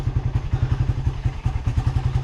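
A motorcycle engine idling steadily after sitting unused for a month, close and loud with a rapid, even thumping putter and clattering mechanical texture throughout.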